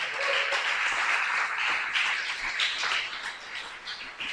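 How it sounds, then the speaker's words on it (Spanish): Soft, distant applause in a church, offered to the Lord during a sermon: a continuous wash of many hands clapping at low volume, fading slightly toward the end, with no talk over it. "¿Cuánto le da un aplauso al Señor?"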